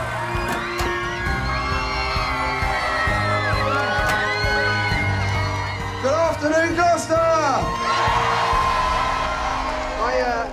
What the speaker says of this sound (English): Thousands of residents have come out to scream for ice cream.